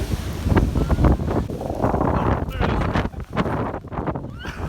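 Gusting wind buffets the microphone while ocean waves surge and break nearby on the Australian east coast, loud and rough throughout.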